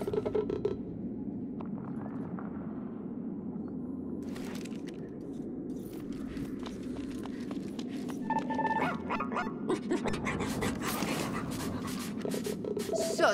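A dog companion in the video game ReCore gives a few short barks and yips among game sound effects, clicks and a low ambient drone, with faint talking at times.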